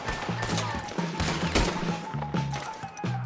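Rapid gunfire in a Red Dead Redemption 2 wagon shootout, dense overlapping shots and crashes over a constant noisy game background.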